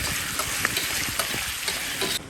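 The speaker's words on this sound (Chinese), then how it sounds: "咱們下入這個肉，給它炒， 讓這個糍粑辣和这个肉融合在一起。" Pork belly and ciba chili paste stir-fried in a hot wok, a steady loud sizzle with scraping stirs running throughout up close, no talk.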